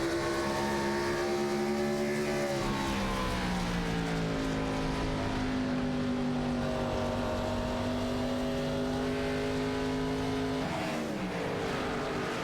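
Gen 4 stock cars roar around the World Wide Technology Raceway oval in a sim racing game, several engines layered in a loud, sustained drone with pitches sliding up and down as cars jostle close together.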